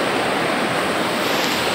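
River water rushes steadily past in the Don Salvador Benedicto countryside, a loud, continuous broadband roar of flowing water with no pauses, close and alone.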